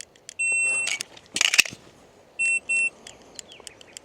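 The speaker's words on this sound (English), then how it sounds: "Buzzer goes off, we are going to reload our magazine back on target" A shot timer buzzer used during a dry fire handgun drill at home gives a single long electronic beep, then after some clicks and rustling two shorter beeps in quick succession, close and clear.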